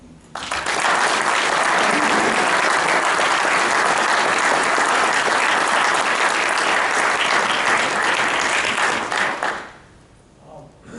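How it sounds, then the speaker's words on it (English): A crowd gives a big round of applause, loud, steady clapping from many hands that swells in quickly, holds for about nine seconds and then tapers off. "I think we ought to give them a big round of applause."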